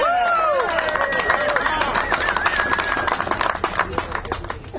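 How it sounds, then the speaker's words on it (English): An outdoor crowd at a small-scale miners' rally on the Oregon Capitol steps in Salem claps and cheers, with dense loud applause, whoops and a whistle mixed with babble. "I know we're able-bodied, we got arms, we can clap hands"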